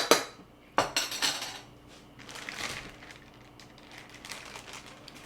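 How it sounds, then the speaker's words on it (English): Lemon juice being stirred into wild blueberries in a bowl, with a few sharp utensil clinks against the dish at the start, then softer scraping and mixing sounds, close and fairly quiet with no talking. "We'll just stir this together."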